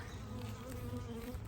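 Honey bees at a hive drone in a steady, dense buzz that never lets up, close and fairly quiet, with several overlapping wingbeat tones and no voices.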